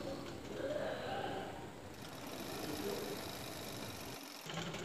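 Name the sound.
sewing machine stitching folded petticoat frock hem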